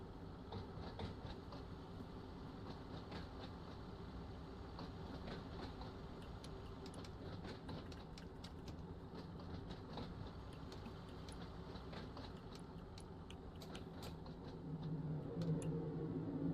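An IET train rolls past on the line between St Erth and St Ives in Train Sim World 5, a steady rumble with rail clatter and clicks that swells slightly near the end.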